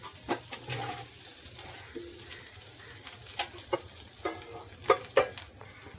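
Broken boiled potatoes drop into a frying pan already holding Kashmiri red chilli powder for a Navratri fasting dish, giving soft scattered thuds and stirring scrapes over a faint, steady sizzle close by.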